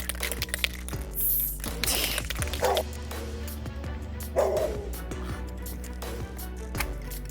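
A dog barks at people outside on a property being secured, giving several sharp barks and yips spread across the clip at moderate distance, with steady background noise and occasional clatter.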